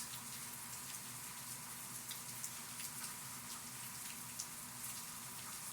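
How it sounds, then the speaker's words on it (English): Steady rain falls outside, a soft continuous patter with occasional sharper drops, heard through an open window at moderate level with no talking. "it's raining outside if you hear that"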